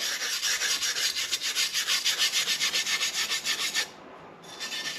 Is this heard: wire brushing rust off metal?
yes